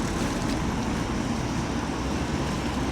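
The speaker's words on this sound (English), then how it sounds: "all these big things and all this traffic just moving all over the place" Steady road traffic rushes past a rider on an e-bike, a broad continuous roar of vehicles and tires with no distinct passes, moderately loud and unbroken throughout.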